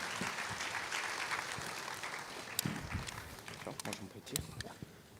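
A conference audience applauds panel speakers after a crypto-industry discussion, with dense clapping that fades and then swells again, including a few sharper, closer claps.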